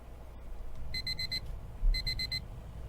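An alarm clock beeps in two quick bursts of four sharp electronic tones, clear and fairly close against a low background rumble.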